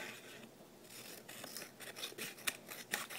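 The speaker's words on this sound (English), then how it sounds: "I'm gonna need to trim it everywhere." Scissors snip through a phone case as it is trimmed along the sides, a run of short, close, crisp cuts with slight rubbing between them, growing a little louder and sharper toward the end.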